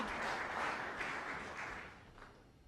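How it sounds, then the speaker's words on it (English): Snooker audience at the 2002 Embassy World Championship first round gives warm applause for good safety shots, a short burst of clapping that swells and then fades away. "Good safeties being applauded."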